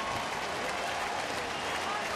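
Crowd at a Cincinnati Reds baseball game against the Dodgers cheering after a 101 mph pitch, a dense roar with scattered clapping that runs steadily throughout.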